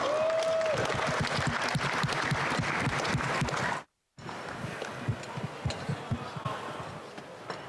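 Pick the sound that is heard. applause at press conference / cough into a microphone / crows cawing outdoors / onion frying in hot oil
applause at press conference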